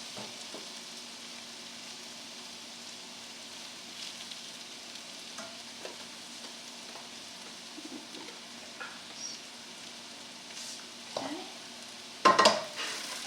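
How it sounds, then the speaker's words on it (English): Mushrooms with breadcrumbs sautéing in a pan give a faint, soft sizzle throughout, broken by occasional light stirring scrapes and a sharper clatter of the utensil near the end. "sauteing this so that the mushroom is brown"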